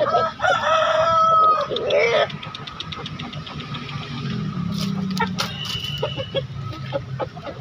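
A rooster crows loudly near the start amid busy traditional chicken market clatter in Makassar, with clucking chickens and an engine rumbling in the background.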